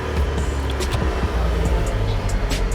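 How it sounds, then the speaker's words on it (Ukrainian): A turbocharged used car from a Copart auction in Miami hums and rumbles from inside the cabin, with a faint airy rush from the turbo over the engine drone and no talk during the sound. "Чую, турбіна дує."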